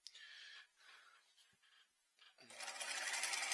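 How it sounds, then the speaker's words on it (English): Home sewing machine running a straight stitch while sewing a garment's pocket lining to the skirt pieces, a near steady whir in short bursts with a pause, then a louder continuous run at the end. "then straight stitching down."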